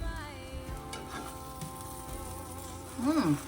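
A vegan grilled cheese sandwich sizzles in a pan with steady, close frying crackle, a brief clatter near the end.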